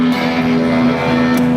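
Electric guitar through a Dunlop Eric Johnson Fuzz Face pedal, a 2012 model with more gain than the traditional Fuzz Face, holding a thick sustained fuzzy note with rich overtones, loud and close with no talking.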